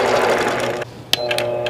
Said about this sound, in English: I like to start in the down position, and I'm going to baste up the back,